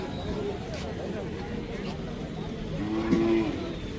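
Cattle, calves and bullocks at the Monday Belhe bullock market low in a long moo that rises out of a dense crowd murmur, with people talking close by throughout.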